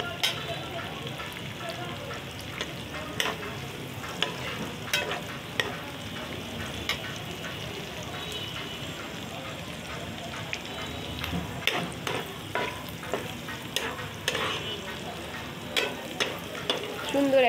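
Chopped onions fry in oil in a pan for a pabda fish curry, giving a continuous close sizzle broken by irregular scrapes and clicks of stirring, with no talking.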